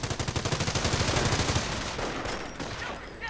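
Rapid bursts of .30 caliber machine gun fire in a World War II strategy game, a fast steady rattle during the first half that gives way to a denser roar of mixed battle noise and distant shots.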